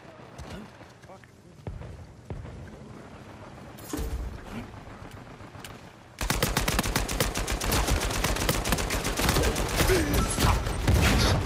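Uncharted 4: A Thief's End multiplayer: scattered clicks and a few shots come first, then a long, loud run of rapid automatic gunfire fills the second half, with a player's voice talking under the shooting.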